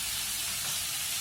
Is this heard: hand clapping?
no